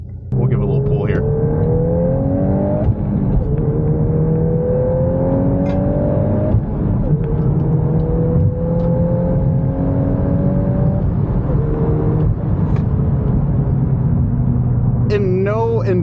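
A car, shown off by an owner who traded a Mustang GT for it, accelerates hard under a rising engine tone with gear-change steps, loud and steady throughout the clip.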